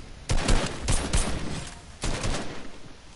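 Assault rifle fire in Fortnite, several close, loud bursts of rapid shots with short gaps between them and no talking over them.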